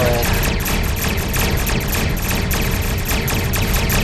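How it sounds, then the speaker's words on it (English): Continuous, loud energy-weapon phaser fire from ship combat against Klingon attack ships in the Star Trek Online game, a dense unbroken barrage with no pauses and no speech. "these phasers do not sound anywhere near as good as"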